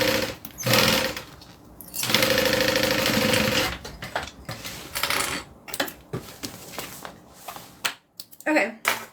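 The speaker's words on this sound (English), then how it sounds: "then we're going to sew the side up" A sewing machine stitches fabric pieces for a handmade bag in short bursts of rapid mechanical whirring, with clicks, pauses and fabric handling between runs, recorded up close.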